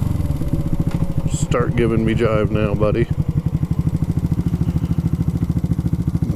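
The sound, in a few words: vintage carbureted motorcycle engine idling unevenly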